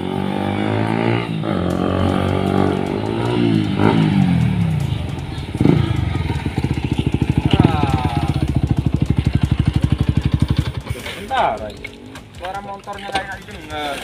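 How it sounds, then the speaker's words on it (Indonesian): A loud motorcycle engine rumbles and revs nearby, its pitch rising and falling, then settles into a steady close drone before fading as it moves off. "suara bising ya suara motor itu"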